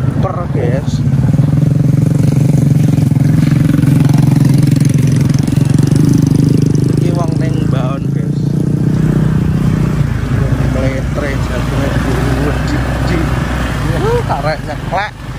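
A small motorcycle engine runs loud and close, with a steady mid-pitched drone that dips and revs slightly while people talk over it.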